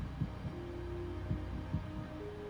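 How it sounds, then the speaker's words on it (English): A steady heartbeat comes from a toilet in a survival horror game built in Dreams on PS4, with soft, evenly spaced thumps over a low constant hum. "we've got a heartbeat coming specifically from this toilet"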